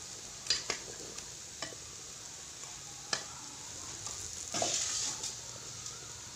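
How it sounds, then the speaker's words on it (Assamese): Fried Assamese laopolla pitha sits in warming jaggery in a pan, giving a soft, steady sizzle with a few light clicks and taps of stirring and one brief louder swell of bubbling. "ইয়াত ভাজি লোৱা পিঠাখিনি বহাই দি আছোঁ।"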